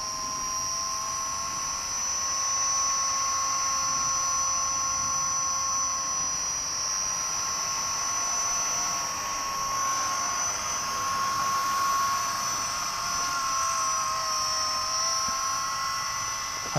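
A repaired Blade 200S RC helicopter hovers steadily, its high-pitched rotor whine and motor drone continuous and fairly loud throughout, with no talk over it.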